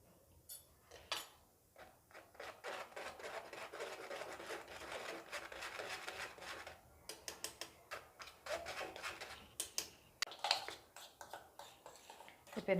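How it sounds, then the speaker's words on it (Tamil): A sieve shaken by hand to sift cocoa powder and powdered sugar together, making a soft, scratchy, rhythmic rasping that is close and faint, with bursts that grow more irregular toward the end. "இப்போ நம்ம எடுத்து வச்சுருக்க கொக்கோ பவுடர், பவுடர்டு சுகர் ரெண்டுத்தையும் போட்டு சலிச்சு எடுத்துக்கலாம்"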